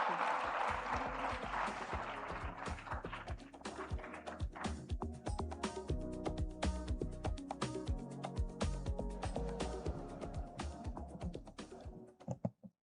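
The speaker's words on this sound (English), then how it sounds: "let's give him a round of applause as he comes up." Audience applause at a forum in Kigali, a dense wash of many hands clapping steadily and loudly for about twelve seconds before tapering off abruptly at the end.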